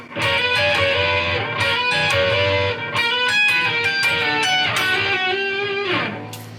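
Electric guitar plays the next section of a solo, built on a moving E dominant 7 shape: a continuous run of bright lead notes with bends and a final sliding note, close and loud, with no voices.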